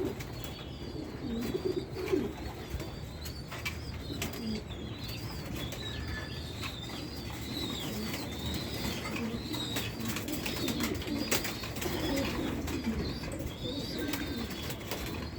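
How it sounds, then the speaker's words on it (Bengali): A returning pigeon coos and flaps its wings close by, with soft bird calls and wing flutters scattered over a steady outdoor background. "কবুতরটা আইছে, মুখটা তো খুইলা উঁচা করে রাখছি"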